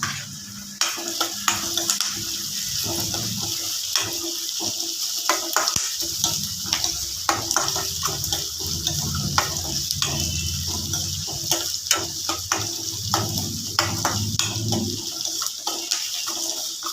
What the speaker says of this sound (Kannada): ಸ್ವಲ್ಪ ಕಲರ್ ಚೇಂಜ್ ಆಗೋವರೆಗೂ ಹೀಗೇ ತಿರುಗ್ತಾ ಇರಬೇಕು.